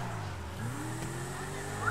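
A video game car engine drones steadily at moderate loudness, its pitch sweeping and wavering as the car drives, with a brief rising whine near the end.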